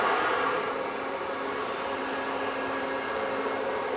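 A Ryanair jet departing Manchester Airport roars continuously in a broad, loud rushing wash that holds steady and slowly eases, with no voices over it.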